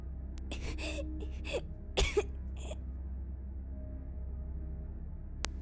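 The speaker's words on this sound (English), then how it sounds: "White filled his vision as he started coughing." Several short, rough coughs come in a quick burst, followed by a few quieter ones and then a near-silent pause over faint background hum.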